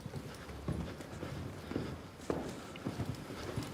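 A horse walks with clear clip-clopping hooves at a refuge for rescued horses, an irregular run of close, sharp hoof strikes over quiet background.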